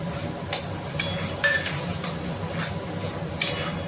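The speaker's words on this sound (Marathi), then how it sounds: "हा पण मसाला वाटलं चांगला परतायचा आहे बघा" Ground green chilli masala with salt sautéed in a pan for a potato stuffing, a steady low sizzle broken by spatula scrapes and occasional sharp metallic taps against the pan.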